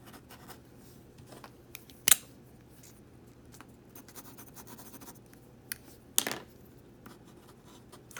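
A Pilot Hi-Tecpoint V10 Grip pen with a 1.0 mm tip writes on paper, a very quiet, soft scratching close by, broken by a couple of sharper handling clicks.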